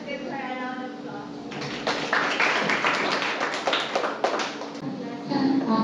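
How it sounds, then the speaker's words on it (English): Audience applause at an anniversary gathering in a hall, a broad burst of clapping that swells in after a couple of seconds and stays steady and fairly loud over a murmur of background voices. "Let us give her a round of applause."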